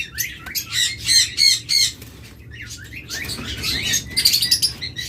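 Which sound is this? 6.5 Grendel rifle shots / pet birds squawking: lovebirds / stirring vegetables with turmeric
pet birds squawking: lovebirds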